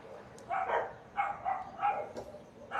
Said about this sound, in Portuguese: E eles estão latindo ali, eu acho que tá passando algum cachorrinho na rua.